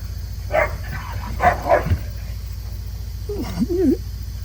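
Dogs bark a few times nearby, short separate woofs followed by a drawn-out whining yowl, heard alone without talk.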